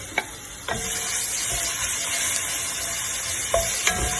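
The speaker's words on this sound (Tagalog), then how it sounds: "Our pan is hot, so we'll have to saute first the onion, the garlic." Onion and garlic sautéing in a hot pan, a steady close sizzle broken by a few sharp clicks and stirring scrapes of a utensil against the pan.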